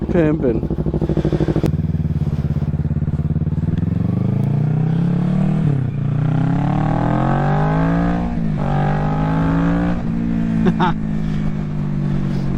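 A Kawasaki Ninja 650 motorcycle fitted with a dB killer revs repeatedly, with rising and falling engine pitch. Close and loud, and a voice talks over parts of it.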